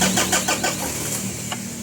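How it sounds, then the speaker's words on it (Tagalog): Diesel engine of a Mitsubishi Adventure, with air in its injection pump, cranking in a rapid rhythmic churn for about a second before catching into a rough, close idle. "pa-start ko ulit itong makina ni customer"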